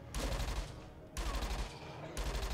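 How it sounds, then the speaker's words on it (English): Sustained bursts of automatic weapon fire from the Entropia Universe video game, three long rattling volleys separated by brief pauses, loud and close. "Just keep shooting."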